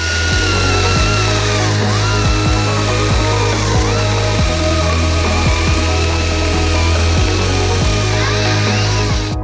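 A cordless battery chainsaw (Dnipro-M DCS-201BC) whines steadily while cutting a log, through a knot, its pitch dipping under load, with rhythmic knocks running underneath the continuous buzz.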